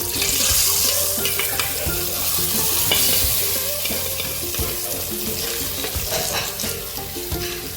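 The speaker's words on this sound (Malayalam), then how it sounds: "കടുക് താളിച്ചത് നമുക്ക് കറിയിലോട്ട് ഇട്ടുകൊടുക്കാം." Tempered mustard seeds go into a pot of deegujje pulisheri, a Mangalorean breadfruit curry, and set off a loud, close sizzle and crackle with stirring and a few light clatters, fading slightly toward the end.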